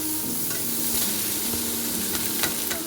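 Rice is stir-fried with prawns in a hot pan for prawn fried rice, a dense, close sizzle with scraping stirs and a few sharper clicks, steady throughout with no talking.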